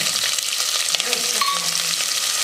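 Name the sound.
mustard seeds spluttering in hot oil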